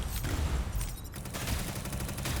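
Gunfire from the sci-fi co-op shooter Mycopunk: a steady run of dense, rapid shots crackles throughout, loud and close, with a brief dip in intensity around the middle and no talking.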